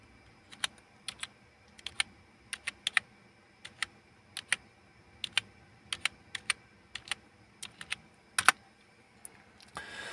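Someone types a second disk-encryption password on a computer keyboard. Sharp, distinct keystrokes fall at an uneven pace in a quiet room, with short pauses between bursts and a louder key press near the end.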